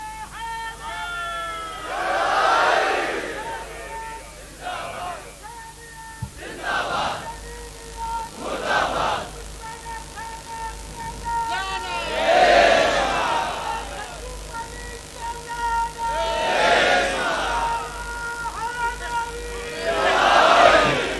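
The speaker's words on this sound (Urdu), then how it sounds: "حاجی سرفراز اب ان کے نعرے دم توڑنے لگے ہیں، چھوڑ دوں؟" A large crowd at a religious gathering for Jashan e Zahoor Mola Ghazi Abbas shouts slogans in repeated loud collective bursts, rising and fading in waves under a reverberant hall sound.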